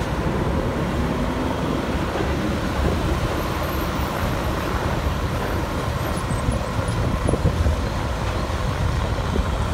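Heavy street traffic rumbles in District 12, Saigon, a dense, loud, continuous roar of engines with no voices.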